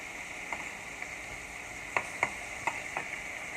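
Lobster pieces seasoned with black pepper sear gently in a frying pan, giving a soft, steady sizzle with a few faint clicks and taps scattered through it.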